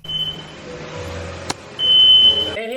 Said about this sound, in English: Before we know it, the fire alarm goes off.